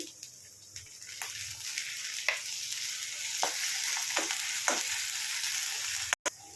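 Ginger garlic paste fries in hot oil with curry leaves in a pan, giving a continuous loud sizzle with sharp crackles and a few stirring scrapes, ending in a brief dropout.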